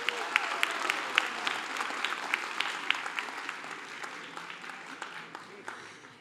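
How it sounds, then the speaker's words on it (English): Steady applause from an audience at a Celebration 2022 event for the Tagish Nation dance group, sustained and even with crisp individual claps standing out, gradually thinning toward the end. "Let's do one more round of applause for the Tagish Nation dance group"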